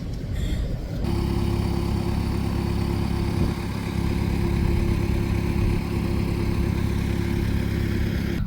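A tractor engine runs at a steady, even drone from inside the cab while hauling hay bales on a farm, with a low constant hum and no talk.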